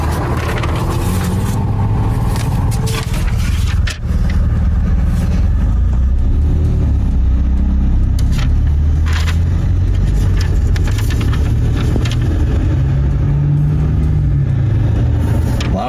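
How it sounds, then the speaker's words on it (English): A car with a loud exhaust rumbles steadily and close by throughout a roadside police traffic stop, its deep engine drone continuous with no pauses. "It's not because of your loud exhaust."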